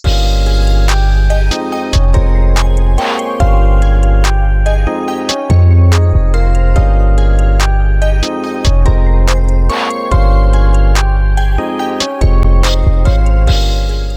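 A full plugg beat pairs booming 808 bass with soft ticking hi-hats, crashes and melodic synths, looping loud with brief rhythmic dropouts, no voices.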